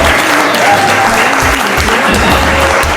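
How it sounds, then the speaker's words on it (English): Loud, continuous applause from an audience at a fundraiser, a dense wash of hands clapping that holds steady throughout, with some voices mixed into the crowd. "Please give a big clap to my friend right there."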